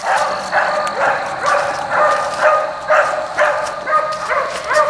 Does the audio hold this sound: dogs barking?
yes